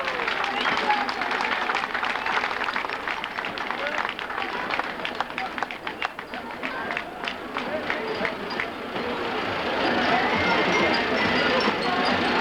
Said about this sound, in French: cela mérite un tonnerre d'applaudissements pour une si belle réalisation